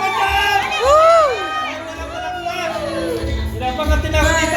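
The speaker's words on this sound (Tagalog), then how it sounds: "Palakpak naman dyan!" Children at a birthday party cheer and whoop in a lively crowd, with high excited voices rising and falling over steady chatter and background noise.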